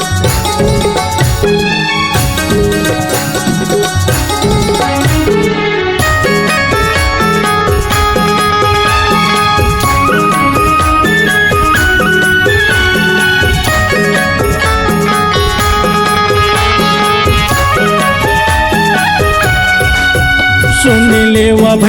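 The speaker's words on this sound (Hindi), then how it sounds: "किस तरह का पंथी ट्रैक है ये सुनिए।" A Chhattisgarhi Panthi backing track for 2024 election songs plays loud and steady, with dense rhythmic percussion and bright melodic instruments running throughout, no voices.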